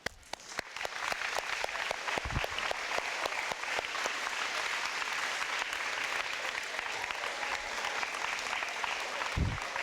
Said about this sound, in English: could you please stand and join me in honoring them all with a cardinal round of applause